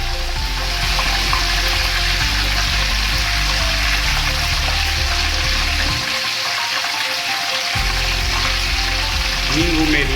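Cumin, mustard seeds and curry leaves sizzle loudly in hot oil in a pan while dal khakhara is made, a continuous close crackling hiss with a brief dip partway through.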